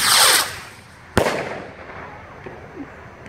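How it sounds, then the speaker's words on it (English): A medium USA Rocket sky rocket firework from Cutting Edge whooshes off at the start, then gives a sharp loud bang followed by a fading crackle and a faint whistle, all heard from a short distance outdoors. "we got USA Rocket, medium-sized one."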